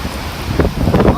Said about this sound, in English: This wind's breaking trees. These gusts right here.